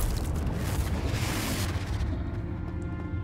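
Confringo fire-blast spell from Hogwarts Legacy erupts as a loud, dense roaring explosion that fills the moment, then rumbles and fades out over a few seconds.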